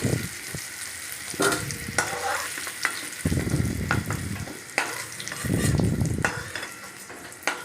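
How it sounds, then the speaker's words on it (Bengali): Potato pieces coated in salt and turmeric fry in hot oil in a kadai over a gas flame, a steady sizzle broken by repeated scraping stirs and louder bursts of crackling as the pieces are turned. "তেল গরম করে আলুর টুকরোগুলো আমি ভেজে নিচ্ছি"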